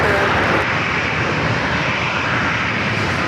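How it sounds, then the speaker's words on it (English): An Embraer Phenom 300 business jet at San Diego airport gives a steady, loud, broadband engine roar that holds constant throughout, close by and unbroken. "It's a Phenom 300."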